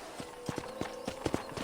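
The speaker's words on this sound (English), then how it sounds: "I picked out a fine horse for you." Horse hooves clip-clopping at a walk in the Western video game Red Dead Redemption, a quiet, steady series of about ten hollow knocks with faint background ambience.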